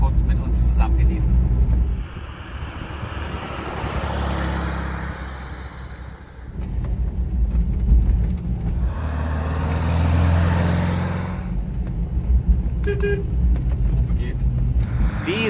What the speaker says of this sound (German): Jetzt machen wir noch eine kurze Probefahrt, um die ganzen Fahreigenschaften kurz zu prüfen.